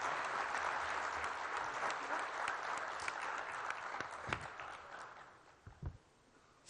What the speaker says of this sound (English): he deserves a much bigger applause than what we did this morning